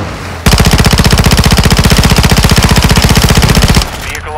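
Sustained automatic gunfire from a heavy weapon in Call of Duty: Modern Warfare II, a rapid, loud, even burst of rounds lasting over three seconds, set against a steady battle ambience.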